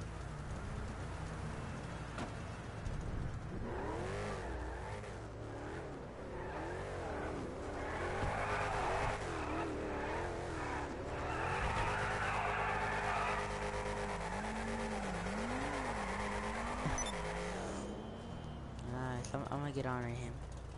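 A car in a video game drives with a steady engine drone, rising and falling revs and a long tire squeal from skidding, while several people talk excitedly over it throughout.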